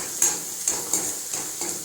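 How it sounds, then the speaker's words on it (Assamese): Ground spice paste fries in oil toward golden brown for a chicken curry, a steady close sizzle punctuated by several light scraping stirs of a spoon in the pan. "ভালদৰে গল্ডেন ব্ৰাউন নোহোৱালৈ ভাজি থাকিম।"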